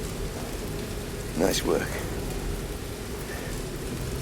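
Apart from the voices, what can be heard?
rain falling, from the video game Tomb Raider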